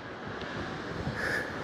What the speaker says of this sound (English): just so you can hear the wind